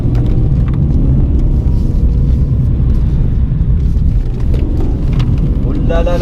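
A car engine roars loud and close under throttle during a drifting lesson, with a deep continuous rumble; an instructor's voice talks over it.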